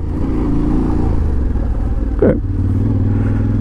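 Yamaha Tenere 700 World Raid motorcycle ridden slowly with the rider standing, a steady low engine rumble running throughout with a brief louder clatter near the middle.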